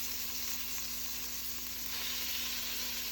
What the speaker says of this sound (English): he's going to add the meat to the pan, and he's going to sear the beef on both sides.